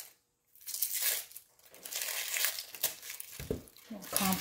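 Outer papery layers are pulled off an onion halved on a cutting board, giving close crinkling and tearing rustles in short bursts after a brief silence.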